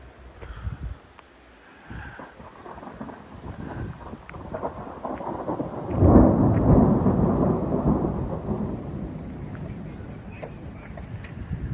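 Thunder rolls in the distance, building into a deep, long rumble midway that slowly fades, with wind and faint outdoor background noise.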